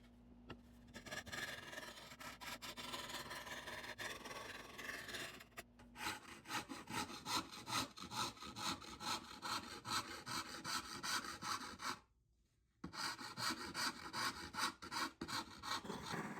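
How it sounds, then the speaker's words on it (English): A rasp works the edges of a wooden violin being built by hand, with rapid rhythmic scraping strokes, close and alone, broken by a brief pause near the end. "now just a lot of detail rasping in the edges until it gets to be just right"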